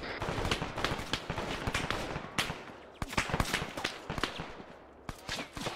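Sustained gunfire in Arma 3, coming from a mosque: dense, rapid bursts of automatic and single shots cracking one after another for the whole stretch, loud and close with no talk.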